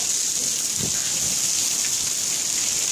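Heavy rain pours down during a thunderstorm in Austin, Texas, a dense, loud, steady hiss of falling water with a brief low thump or rumble early on and no talking.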